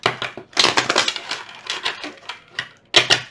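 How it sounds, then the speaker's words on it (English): Tarot cards shuffled by hand, close and crisp: repeated papery riffles and slaps in several bursts with short pauses between them, no talking. "One more shuffle"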